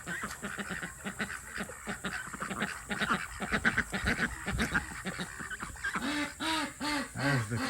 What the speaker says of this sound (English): Hello, duckies.